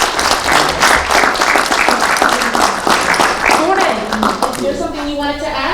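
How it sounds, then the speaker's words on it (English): An audience applauds panelists at the close of a panel discussion, dense clapping filling the room for several seconds while voices talk over it toward the end. "give a round of applause for our wonderful panelists here"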